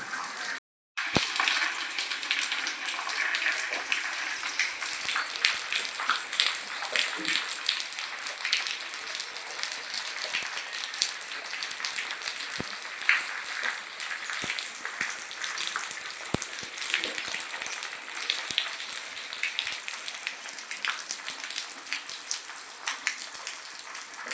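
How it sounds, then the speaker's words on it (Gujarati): Light, steady rain falls outdoors on a Saturday, a soft continuous hiss with scattered drop ticks, even in level throughout, with no one speaking. "ધીમો ધીમો વરસાદ ચાલુ છે"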